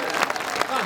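Audience at a stage event clapping briefly, a short burst of mixed applause heard close with voices blended in.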